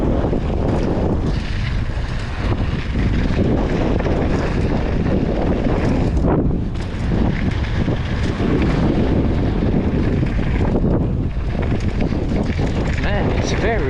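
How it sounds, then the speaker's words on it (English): Strong wind buffets the microphone at a bike park on a gusty day, loud continuous roaring and rumbling with surges, and a rider's voice is faintly mixed in. "Man, it's very windy today."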